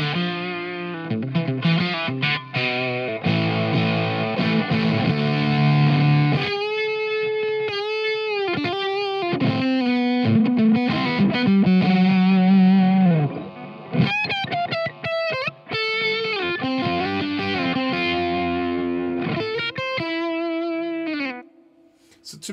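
Electric guitar on the humbucker pickup played through a Valco KGB Fuzz pedal: loud, saturated fuzz tones with sustained notes, chord stabs and sliding phrases that continue for about twenty seconds before fading out at the end.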